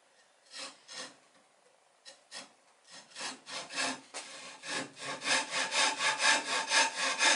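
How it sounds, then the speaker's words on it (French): A hand saw cuts through wood for a small toy boat, a few hesitant strokes at first and then a steady run of rhythmic rasping pushes that grow louder and closer toward the end, with no voices. "Maintenant, tu scies."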